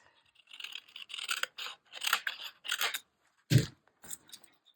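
Scissors snip through a paper sheet from a flea market printed as a St. Patrick's Day souvenir, giving a string of close, crisp cutting strokes in short bursts with brief pauses between them.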